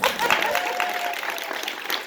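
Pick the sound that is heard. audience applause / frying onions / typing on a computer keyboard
audience applause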